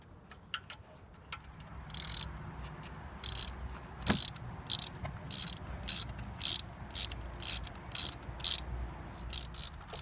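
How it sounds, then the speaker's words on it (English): A ratchet fitted with a 5/8 inch spark plug socket and a 6-inch extension loosens worn-out spark plugs from a Kia Rio engine. After a few faint knocks, a steady run of short, crisp clicking bursts repeats close up, with no talking. "what you're going to want to use is a 5/8 inch spark plug socket, and then also an extension for your ratchet"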